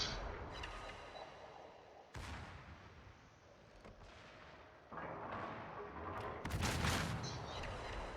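Heavy naval turret guns in a video game pound away at a fleeing transport ship, a string of deep booming shots spaced a few seconds apart over a low rumbling background, with no talking.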